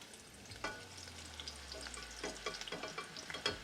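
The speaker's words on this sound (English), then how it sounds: "Let's get those shallots frying." Shallots fry in hot oil above 350 degrees on a Ninja Woodfire Grill, a continuous crackling sizzle broken by scraping stirs and sharp spatters, close and clear with no talking.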